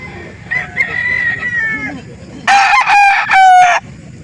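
Two roosters crow loudly one after another at a chicken market in Calauan, Laguna, each a long harmonic call, over busy background noise and faint clucking.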